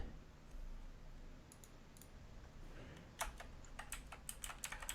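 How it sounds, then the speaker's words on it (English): Computer keyboard keys tapped during a game emulation session, faint scattered clicks at first, then a quick cluster of sharper, closer key presses over steady background hiss. "I'm hitting a couple keys that I thought I hit."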